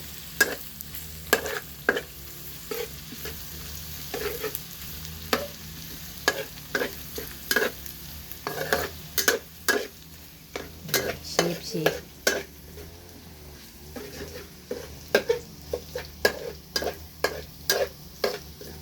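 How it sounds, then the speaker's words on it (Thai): Garlic is stir-fried in a pan over a wood-fired stove, with a steady sizzle beneath repeated sharp scrapes and clacks of the spatula against the pan at an irregular, busy rhythm, close up and with no talking. "อันนี้ครัวกระเทียมให้หอมก่อนนี่ก็เริ่มหอมแล้ว"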